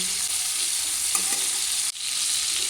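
Prawns fry lightly in hot oil, producing a bright, continuous hiss of sizzling close by, briefly dipping once as they are stirred, then resuming at full strength.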